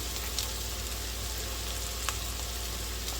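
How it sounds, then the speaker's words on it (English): A steady, close sizzle of a hot pan as flour is stirred in for chicken à la king, with faint scraping ticks over broadband frying hiss throughout. "now we're going to stir in the flour"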